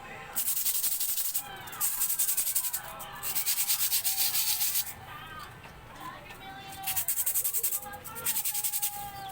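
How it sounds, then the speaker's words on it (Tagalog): Rhythmic, scratchy sandpaper rubbing on a Honda Click scooter brake shoe in repeated bursts of back-and-forth strokes, close up, with short pauses between passes. "dito kailangan natin liyahin tong part na to"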